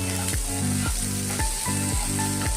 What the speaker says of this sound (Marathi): चला तर आपण आता मसाले भाजून घेऊया.